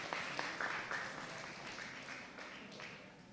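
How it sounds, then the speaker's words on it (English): Faint round of applause from an academic conference audience in a hall, scattered claps fading gradually over a few seconds. "please give her a round of applause"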